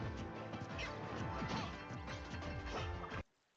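Dense, loud crashing hit effects from an up smash attack in Super Smash Bros, layered over game music and sound effects for about three seconds before cutting off suddenly.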